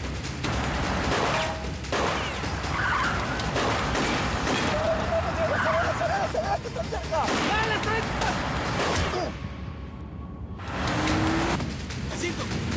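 Several guns fire in rapid bursts during a chase scene, sharp repeated cracks over car engine noise and tire sounds, loud and close, with shouting voices mixed in.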